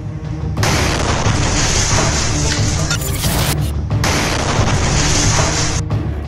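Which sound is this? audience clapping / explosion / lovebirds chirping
explosion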